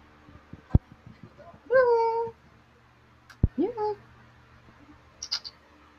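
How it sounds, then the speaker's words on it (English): A pet cat meows twice, each a short rising-and-falling cry, with a faint chirp near the end; quiet room noise and a couple of sharp knocks fill the gaps between calls. "Cat's right over here."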